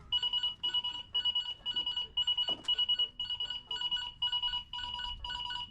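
A Honda Ruckus scooter's security alarm beeps in rapid repeating bursts of shrill electronic tones, roughly ten pulses in steady rhythm. It is close but moderately quiet, with a brief clunk partway through.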